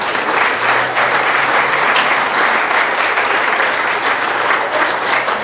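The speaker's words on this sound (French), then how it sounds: "On peut applaudir Dominique Brave, merci." An audience at a round-table event about sailing claps loudly and continuously, a dense, close wash of applause that holds steady from start to finish.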